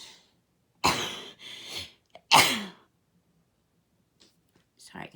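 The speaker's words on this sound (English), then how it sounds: "I had to sneeze." A single sharp sneeze indoors during a journal planning session, followed by a second burst and then near silence, with faint paper and tape handling sounds at the end.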